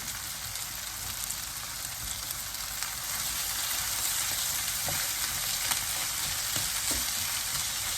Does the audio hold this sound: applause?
no